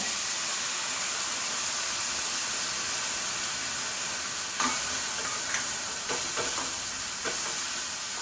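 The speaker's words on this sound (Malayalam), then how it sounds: "അപ്പം ഞാൻ ഈ പുളിവെള്ളം ഒഴിച്ചു കൊടുക്കുകയാണ്" Tamarind water simmers with bitter gourd in a pan, making a steady bubbling sizzle throughout, with a few light clicks and taps near the end.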